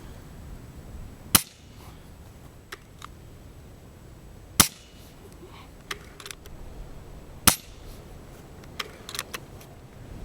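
An RWS air rifle fires Beeman Field Target Specials pellets, three sharp cracks spaced about three seconds apart, close and clear, with small clicks and handling noises between shots.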